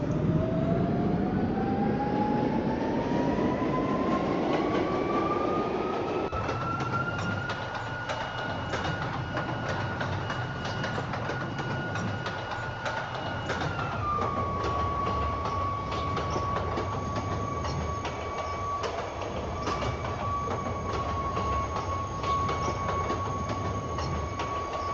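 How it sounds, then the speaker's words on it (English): A D train in OMSI 2 runs past with a continuous rail rumble and rising, then steady, whining motor tones, loud and close throughout with no talk. "Hopefully that was a D train in front of me."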